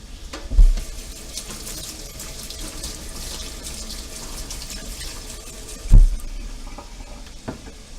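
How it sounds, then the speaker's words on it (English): Celery rinsed under a running kitchen tap, a steady hiss of flowing water with two soft thumps as the stalks are handled. "I'm going to rinse this off."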